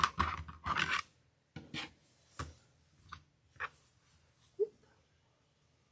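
Scissors snip and trim fabric pieces for a sewing project, a few short crisp cuts and rustles close by followed by sparse softer clicks, with no talking.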